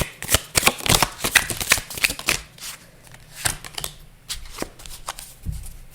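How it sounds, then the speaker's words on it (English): Message cards shuffled by hand in a quick run of crisp riffling bursts and soft flicks, close and fairly loud, with no talking over it. "we're going to go in with message cards"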